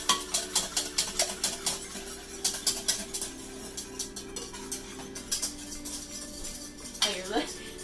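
Sugar being whisked for hot chocolate, a rapid, rhythmic clinking of a whisk against a cup or bowl, close and steady, with a brief squeak near the end.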